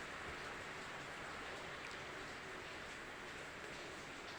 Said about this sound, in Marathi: आज अजूनही बाहेर पाऊस चालूच आहे खूप.